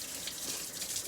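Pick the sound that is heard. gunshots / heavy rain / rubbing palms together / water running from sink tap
water running from sink tap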